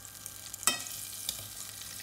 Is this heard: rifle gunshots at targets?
no